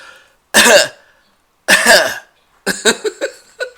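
Two drawn-out coughs a second apart, then a quick run of short, sharp coughs and throat-clearing, close and loud with no talking.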